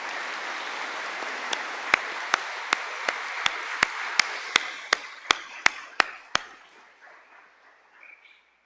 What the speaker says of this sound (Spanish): le damos un gran aplauso a Roberto